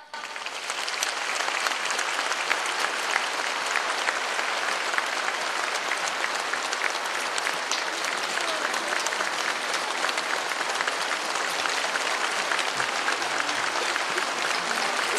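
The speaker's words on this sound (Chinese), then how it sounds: "让我们用最热烈的掌声，恭请尊敬的卢军宏台长" Sustained, steady applause from a large audience at a Buddhist dharma talk in Sabah, Malaysia, greeting the speaker. A dense wash of clapping continues unbroken at an even, fairly loud level throughout.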